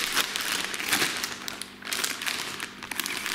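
A waterproof plastic zip-lock bag, taken from a small cardboard box, is handled up close, giving continuous crinkling and rustling with small sharp crackles throughout.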